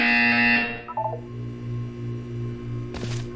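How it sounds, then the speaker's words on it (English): Electronic tones in the Portal 2 video game: a sustained harsh buzzer, then a short run of descending beeps, a low pulsing hum and a brief bright burst near the end. "You will hear a buzzer."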